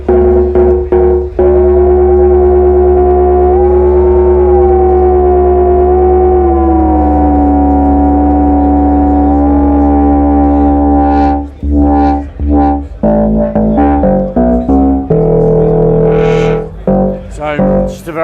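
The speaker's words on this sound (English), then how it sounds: "Just a very full and lush sounding machine with a beautiful innate character, and the Minimoog just sounds amazing." A Minimoog synthesizer runs three oscillators together in a loud, thick, lush drone with gliding pitch bends, then breaks into quick staccato notes and rhythmic bursts with no voices.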